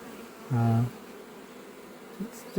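Honeybees buzz at a beehive entrance while bringing in pollen, a single loud close buzz lasting about half a second, then faint background hum with no talk.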